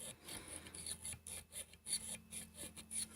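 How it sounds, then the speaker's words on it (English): Sandpaper wrapped around a small dowel rasps inside a Dillon powder measure during polishing, producing faint, rhythmic scratching strokes close up in a quiet room. "I make these little dowels with sandpaper"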